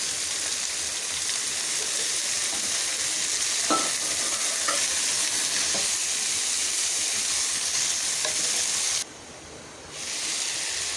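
Cabbage and onion frying in a pan with a little salt, a steady sizzle with faint stirring scrapes, dipping briefly near the end.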